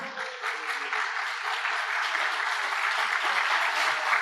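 Applause in a church congregation during a sermon, a sustained wash of many hands clapping at an even level for the whole stretch, with no voices over it.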